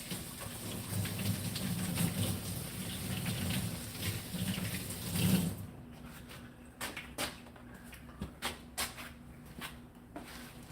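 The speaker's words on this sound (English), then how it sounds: "Let me wash my hands." Water from a tap runs steadily while hands are washed, a broad continuous splash for about five seconds, then it stops and leaves scattered small knocks and drips.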